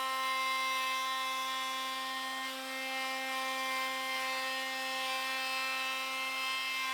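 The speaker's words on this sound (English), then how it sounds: "I finished routing out this side of the window" A hand-held router cuts a window recess into an enclosure panel, a steady high-pitched whine with strong tonal harmonics holding constant for several seconds before stopping abruptly.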